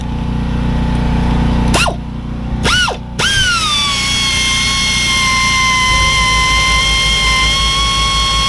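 A power tool whirs on the rear brake bolts of a Toyota 4Runner, giving two short rising bursts and then a long sustained high whine over a low background rumble, loud and close.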